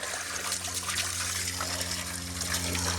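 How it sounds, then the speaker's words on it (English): A garden hose sprays water inside an air conditioner unit, producing a continuous close rushing gush that spatters against metal over a low steady hum. "So now I've turned the hose up and I'm gonna keep it off of the coil"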